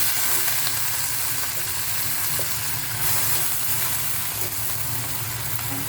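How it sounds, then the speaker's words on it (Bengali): Malabar spinach tossed into prawns frying in a pan, a steady loud sizzle with faint stirring, no talking. "এর ভিতরে আমরা পুঁই শাকগুলো দিয়ে দেব।"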